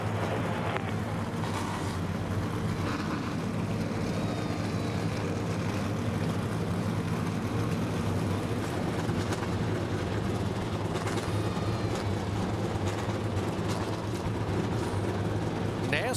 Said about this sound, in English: NASCAR legends firing up their cars